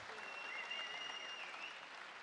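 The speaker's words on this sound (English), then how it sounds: "let's give these two warriors a big round of applause" Audience applause fills a venue in Slovenia after an MMA main event between Luka Podkrajsek and Viktor Vasic, a dense, steady wash of clapping with crowd noise throughout and no speech.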